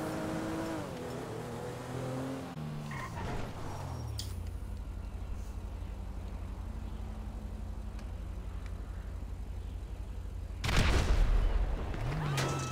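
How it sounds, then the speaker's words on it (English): A grenade explodes in Grand Theft Auto Online, a loud broadband burst near the end that stands out over continuous rumbling engine and game noise, with no talk in the passage. "No, it's only the grenade that went off."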